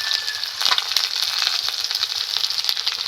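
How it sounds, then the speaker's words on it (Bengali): Chopped onions hit hot oil already tempered with whole cumin seeds, giving a steady close sizzle with crackling pops throughout and no talking. "এবার পেঁয়াজ কুচি দিয়ে দিলাম।"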